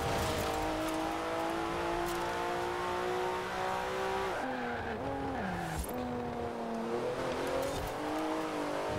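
A car in Forza Horizon 4 is driven at full throttle, its engine roaring loud and close the whole time. It revs up through several gear shifts, with pitch dips between gears and a brief tire squeal.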